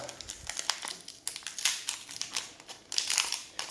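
Crinkling and crumpling of a Euro 2024 sticker pack wrapper being torn open, close-up bursts of plastic rustle in irregular clusters.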